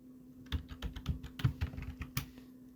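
Typing on a computer keyboard while filling in an Excel spreadsheet, a quick uneven run of soft, close key clicks in short bursts over a faint steady hum.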